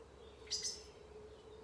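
Birds chirp faintly during a calm guided breathing session: two brief, high tweets in quick succession rise just above a steady low background hum, then fade, leaving only the quiet drone.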